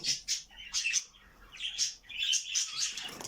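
Budgerigars chirping and chattering in quick, high bursts, close and lively, with no talking.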